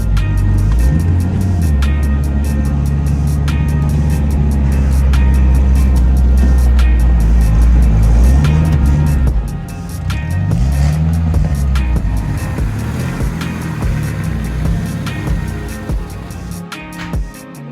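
A lifted Dodge Neon's engine roars and revs repeatedly, rising and falling in pitch as it slides in a drift, loud and close throughout.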